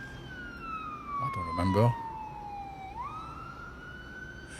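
An ambulance siren plays faintly from a video as a slow, steady wail that dips and then rises again, with a voice speaking briefly over it.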